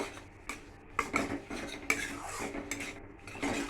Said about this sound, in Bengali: এটা দিয়ে ভালো করে নাড়াচাড়া করব